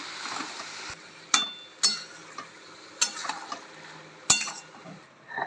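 Banana flower and boiled prawns are stirred in a pan, giving several sharp metallic clinks of a utensil against the pan spaced about a second apart, with soft scraping between them.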